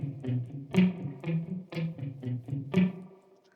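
The opening bass riff of a song played on guitar, a steady repeating run of plucked notes with punchy accents, close and alone.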